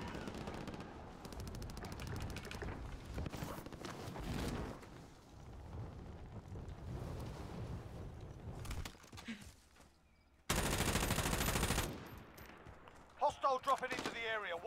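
Bursts of automatic gunfire from a weapon in Call of Duty Warzone Plunder mode, rapid rattling volleys at moderate distance mixed with game effects and intermittent talk.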